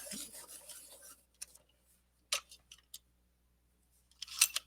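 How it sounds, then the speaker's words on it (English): Cretacolor Mega pencils scrape in a sharpener, a few short bursts of rough grinding and rasping separated by quiet pauses, close and fairly soft, with no talk. "So I'm going to have to sharpen them"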